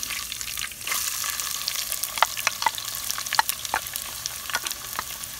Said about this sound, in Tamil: கருவேப்பிலை போட்டதுக்கப்புறம் வெங்காயத்தை போட்டு நல்லா வதக்க போகிறோம்